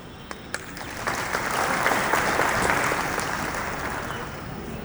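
An audience at an Independence Day event at Chandigarh International Airport breaks into sustained applause after a couple of sharp claps, building within a second and holding steady without talk.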